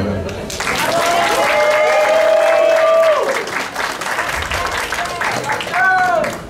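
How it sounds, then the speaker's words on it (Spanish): Guests at a quinceañera party applauding, a full burst of clapping and crowd noise that swells and holds, with background music tones and voices mixed in. "quiero pedir un gran aplauso para la hermosa quinceañera"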